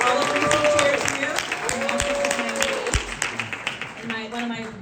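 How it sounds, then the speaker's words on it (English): A crowd at a Democratic primary forum applauds a local party chairperson, with continuous clapping running under louder overlapping voices and crowd chatter. "which a round of applause for Caroline Shermine, our chairperson for HD 98"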